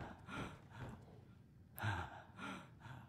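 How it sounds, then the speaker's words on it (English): A character in the Skyrim video game pants in soft, rhythmic breaths, with gasping inhales and exhales repeating several times, faint and close. "There's Hooterts panting"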